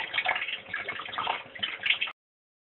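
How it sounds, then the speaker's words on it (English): Vinegar pours from a bottle into a washing machine drum, a steady splashing gush that runs for about two seconds and then cuts off abruptly. "I've already put one bottle of this vinegar in the drum, and I'm just going to put the other bottle in there."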